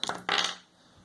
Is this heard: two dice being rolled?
yes